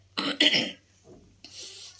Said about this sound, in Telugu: ఈ మధ్య బాగా దగ్గు వస్తుంది మాట్లాడుతుంటే దగ్గు ఎక్కువ అవుతుంది